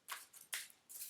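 Tarot cards are shuffled close up in three quick riffling bursts, crisp and papery, with no talk over them.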